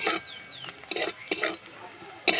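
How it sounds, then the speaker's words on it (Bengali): Turmeric and chili powder frying in a pan for an egg paratha filling, a quiet sizzle broken by repeated scraping stirs and clinks of a spoon against the pan, close by. "এই মশলাটাকে একটু ভেজে নেব"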